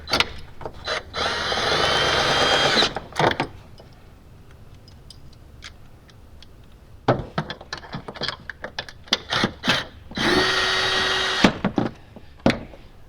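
A swivel socket tightens 10mm bolts while a 12V battery is installed in a Tesla Model X, giving two bursts of close ratcheting clicks with scattered tool knocks and quiet handling in between.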